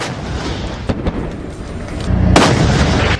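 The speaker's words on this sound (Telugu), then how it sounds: "ఒక్కసారి అక్కడ ఆ బాంబు పేలిన శబ్దం," Bomb blast from an air strike in Khan Younis, heard as a harsh, noisy recording with a few sharp cracks and then a heavy booming surge near the end.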